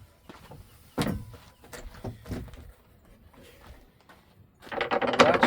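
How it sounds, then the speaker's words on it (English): Door latching on a Neis camper wagon: a few sharp metallic clunks and knocks near the start, close and moderately loud, followed by a brighter rattling burst at the end. "Latch the door."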